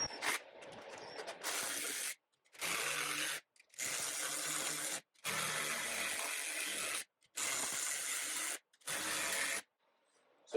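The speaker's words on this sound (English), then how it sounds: "I use my impact driver, my 17 millimeter, and it makes it a lot faster." Impact driver with a 17 mm socket working on Yamaha Banshee ATV front shocks, firing in six or seven loud hammering bursts of about a second each, separated by short silent gaps, close up and without speech.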